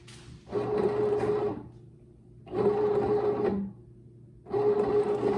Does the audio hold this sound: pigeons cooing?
no